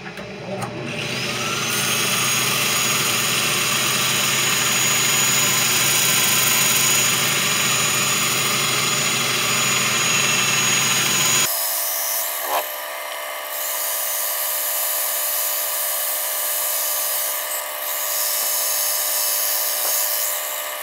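A steady mechanical whine of a power sander on a black cherry wooden bowl runs continuously, loud and close, then shifts to a thinner, higher drone partway through.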